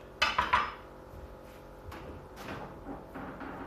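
A Nakiri knife cuts the end off a stick of celery on a cutting board, giving a few sharp close taps at the start and then softer scattered knocks, with no voices.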